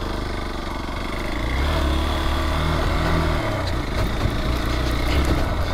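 Light off-road motorcycle ridden over rough ground near the Damodar river, a steady loud engine drone with continuous wind and road noise throughout.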